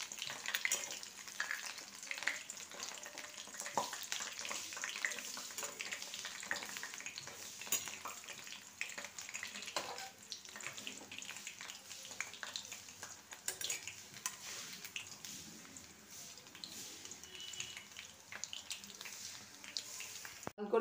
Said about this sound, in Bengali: তেল গরম হয়ে গেছে, এবার এতে আমি ছোট ছোট করে পকোড়ার মতো পুরো কড়াতে আমি দিয়ে দেবো।